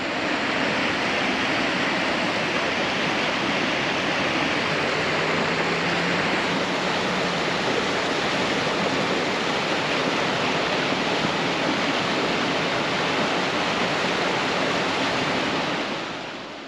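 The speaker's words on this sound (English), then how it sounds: "Sure hear the roar of that water though." Powerful roaring river water flows loud and steady right beside a hot spring near Pagosa Springs, a dense continuous rush with no voices.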